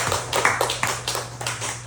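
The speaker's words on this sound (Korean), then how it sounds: "우리 하나님께 감사와 영광의 박수 한번 드리겠습니다" A church congregation claps together during a Korean worship service, giving a dense burst of overlapping hand claps with a low steady hum underneath.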